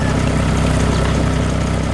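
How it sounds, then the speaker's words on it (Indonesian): A green tractor engine drones steadily while planting seeds in a cartoon farm field, a loud, even rumble heard alone with no break. "Mesin pertanian hijau sedang bekerja keras di tengah sawah, menanam benih dengan rapi dan cepat."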